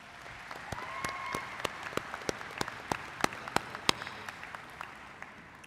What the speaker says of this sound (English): Students, please give your parents and or guardians a round of applause.